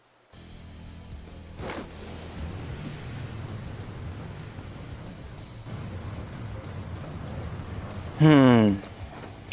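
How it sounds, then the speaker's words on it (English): Steady rain falls in the Pokemon Violet game world, a continuous wash of soft hiss lasting throughout, with a brief bright chiming jingle near the end. "It's unfortunately raining again"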